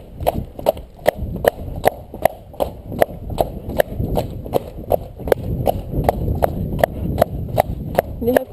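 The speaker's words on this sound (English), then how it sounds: "you have to have good steering so the horse goes just where you want" Hooves of a cob horse pulling a carriage clip-clop in a steady, even rhythm of sharp, close knocks, about two or three per second, over a low rumble of wheels.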